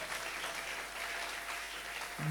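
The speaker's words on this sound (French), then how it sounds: "Acclamez pour la gloire de Dieu." Church congregation applauding for the glory of God, a steady wash of clapping heard faintly from a distance for a couple of seconds.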